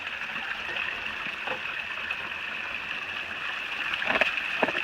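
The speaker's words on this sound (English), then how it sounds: "So this is a nice flowing stream right here." A flowing mountain stream beside the Appalachian Trail gives a steady, close rushing and gurgling wash, with faint knocks and a slight swell toward the end.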